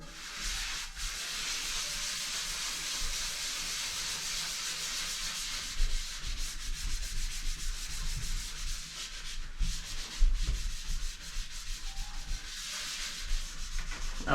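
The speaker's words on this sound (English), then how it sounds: "Let's do just a couple more swooshes on this." Steady abrasive scrubbing of a Revere Ware stainless steel pan with vinegar and salt, a continuous gritty rubbing with a few louder strokes, close and alone without talk.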